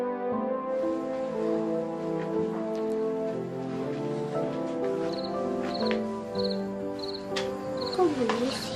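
Cricket chirps in short, evenly spaced pulses during the second half, sitting over a steady bed of music in an animated children's story.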